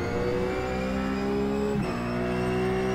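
Race car engine in a racing video game, a loud sustained high-pitched whine holding steady around a track lap, with a brief shift in pitch near the end.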